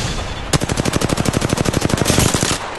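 Sustained automatic gunfire in the Apex Legends video game, a loud, rapid and even burst of shots lasting about two seconds, rising out of steady background noise, with no talking.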